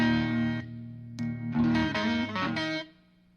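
Electric guitar played through a Texas Ranger frequency booster pedal set on the mids, giving a nasal, distorted tone with reverb; sustained chords and notes ring out alone, with a brief pause before louder strummed chords that fade at the end.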